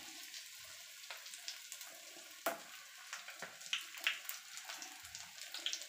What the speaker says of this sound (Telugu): బాగా రెడ్గా వచ్చేంత వరకు వేయించుకోవాలి, ఎర్రగా వచ్చేంత వరకు.